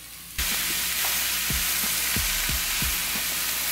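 Food fries in a pan with a broad, continuous sizzle that starts abruptly, while a few dull knocks from stirring sound underneath and no one speaks.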